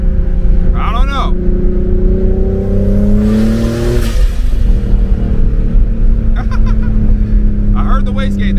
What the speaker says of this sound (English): I heard the wastegate that time, I didn't hear it before.